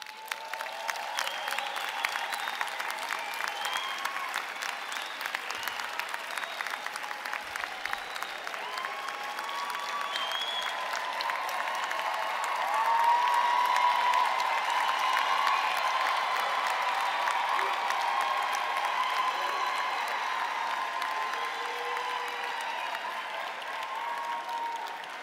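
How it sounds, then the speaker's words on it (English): Graduates at a university autumn graduation ceremony applaud their parents and sponsors, a broad, steady crowd clapping that swells slightly midway and holds at moderate volume in a large hall. "request our graduates to applaud their parents, sponsors, spouses, everyone that assisted you"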